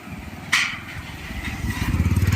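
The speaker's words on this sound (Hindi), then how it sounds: "एक बाइक आ रही है।" A motorcycle approaches and passes on a road trip from India to Nepal. Its engine note throbs louder and nearer toward the end, over a steady background rumble and a brief sharp noise early on.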